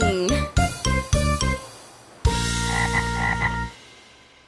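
A cartoon frog croaks in a series of loud, close, resonant pulses, first as several separate throaty calls and then as one longer sustained croak with light tinkling accents over it.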